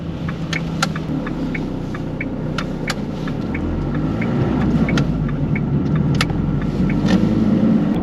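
A truck cruises along narrow country village roads toward a loading site, its engine giving a steady low rumble and hum inside the cab, with road noise rising slightly toward the end.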